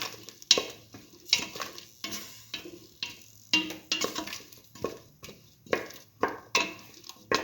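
A ginger and coconut mixture is stirred in a pan for a potato coconut toast sandwich filling, with repeated scraping strokes and soft clatter against the metal, alongside faint sizzling; the rhythm is steady and close.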